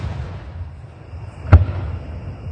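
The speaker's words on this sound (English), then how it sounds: "We're out in our backyard and watching fireworks." A firework explodes in a backyard with one sharp, loud boom midway through, after a low rumbling outdoor background, then fades back to a soft murmur.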